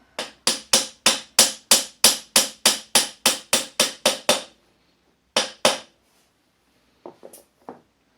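A hammer taps a bolt on a Suzuki Intruder Volusia VL800 motorcycle during rear assembly work, with about fifteen fast, sharp metallic strikes in a steady rhythm. After a pause come two more hits, then a few faint clinks.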